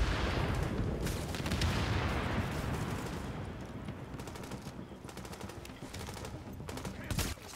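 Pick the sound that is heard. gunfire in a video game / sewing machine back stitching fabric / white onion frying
gunfire in a video game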